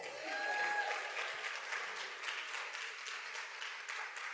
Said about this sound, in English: How about a big round of applause to Shikata?